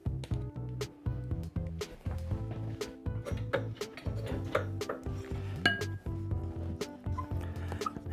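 A utensil stirs vanilla into a sugary glaze in a bowl, giving a close, busy run of rhythmic clinks and scrapes against the bowl.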